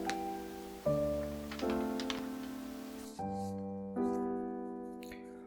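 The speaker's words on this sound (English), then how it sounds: "If you're not sure, you can give it a pluck and it should sound like this." A tied oboe reed plucked to check its seal, giving a series of short, faint, buzzy pitched twangs in an uneven rhythm, close and quiet with no speech.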